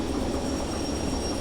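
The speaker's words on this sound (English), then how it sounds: "So now we're going to stop the train." A train in the Derail Valley railway simulator brakes toward a stop, giving a steady, close rumble of rolling wheels and a faint high metallic whine held throughout.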